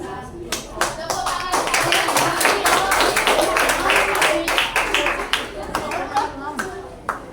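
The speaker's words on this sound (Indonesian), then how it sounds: "Tepuk tangan." Hand clapping from a classroom audience after a group presentation at a teachers' academic supervision session, a dense run of sharp claps lasting the whole stretch at steady loudness, with some voices mixed in.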